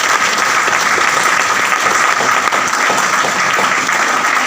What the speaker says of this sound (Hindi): तो एक बार फिर जोरदार तालियां अपने लिए बजाएं।